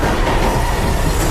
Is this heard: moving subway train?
yes